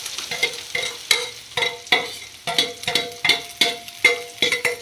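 Sliced onions frying in oil with spluttered cumin seeds for a papadam curry, a close rhythmic stirring scrape repeating about twice a second over a bright crackling sizzle.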